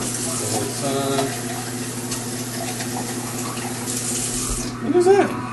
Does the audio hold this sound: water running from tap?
yes